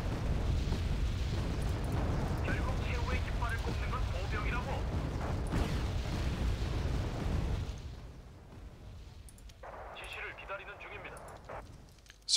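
Explosions and artillery fire in the Wargame Red Dragon strategy game form a dense, loud roaring rumble for most of the stretch, then drop to quieter crackling and a lone late burst.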